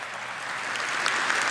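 An audience applauds at a national youth parliament plenary inauguration, a dense, steady wash of clapping that grows slightly louder, with no voices over it.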